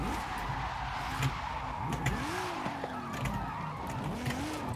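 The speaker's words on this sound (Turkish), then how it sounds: "Şöyle bir drift çekelim." Tires squealing as a car drifts in Forza Horizon 5, with rising and falling pitched screeches over a steady engine roar and road noise for the whole stretch.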